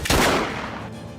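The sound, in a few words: gunshot in a film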